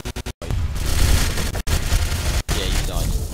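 Gunfire in the online shooter game Ghost Recon Phantoms, dense loud bursts and booms running under excited player talk, broken by short silent cuts.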